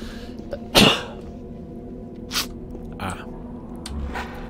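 A person sneezes once, sharp and close, followed by a few softer breathy throat sounds over a quiet, low background hum.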